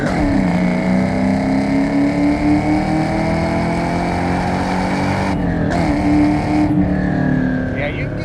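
A Vortech-supercharged 1998 Ford Mustang Cobra with a 4.6 V8 being driven, its engine droning with a steady whining pitch that rises and falls, while someone talks over it from inside the car.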